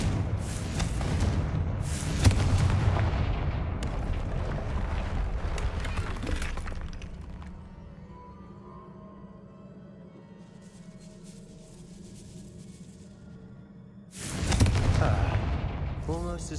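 A Confringo fire spell blasts through a barrier in the video game Hogwarts Legacy: loud, crackling explosive bursts open the clip, a low rumble lingers through a quieter middle, and another heavy blast erupts near the end.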